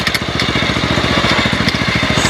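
Homemade car running on a Honda CD70 motorcycle engine, a rapid, even single-cylinder putter close by, loud and steady throughout with no voices.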